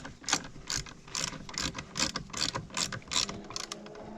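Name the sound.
ratchet tightening a part on Ford 7.3 Powerstroke A/C repair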